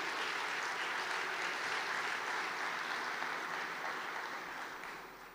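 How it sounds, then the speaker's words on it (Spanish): A church congregation claps in a dense, sustained burst of applause that fills the room evenly, then tapers off toward the end. "Si es para Él, dale fuerte ese aplauso."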